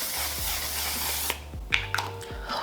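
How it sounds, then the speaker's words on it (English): One Size Until Dawn mattifying setting spray misted from its bottle in a long, steady hiss that cuts off sharply, followed by a few soft clicks and taps close by. "If you guys haven't tried this mattifying setting spray"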